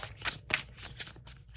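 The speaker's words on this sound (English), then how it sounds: "one more shuffle here." Tarot cards being shuffled up close, a few quick riffling bursts in a rough rhythm, quiet and with no talking.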